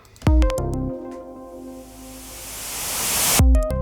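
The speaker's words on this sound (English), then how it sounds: "we're gonna have a nice white noise sweep going over the course of 1 bar" A synthesized white noise sweep rises steadily in brightness over one bar, framed by short bursts of electronic tones at the start and end.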